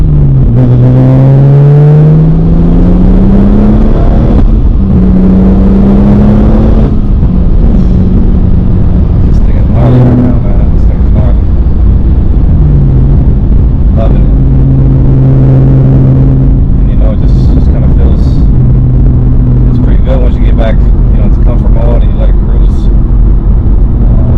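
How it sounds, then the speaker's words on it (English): Interior drive in a BMW 340i with a B58 engine, top-mount single turbo, straight pipe and manual transmission with lightweight clutch: steady engine drone and rising revs with transmission whir, under ongoing talk throughout. "You can sometimes hear the transmission with the lightweight clutch."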